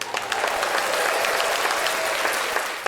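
Applause from a small podcast studio audience welcoming a guest who owns a Nissan Skyline GTR R33, a steady dense clapping wash that runs loud and unbroken for about three seconds.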